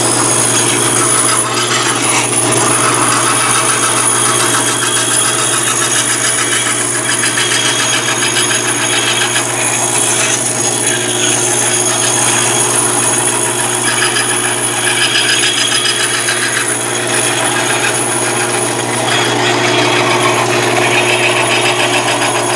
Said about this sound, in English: with the bandsaw, it's all about the push and the turn, and that's how we get these curvy lines